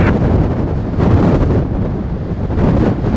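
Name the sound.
gusty wind during crosswind landing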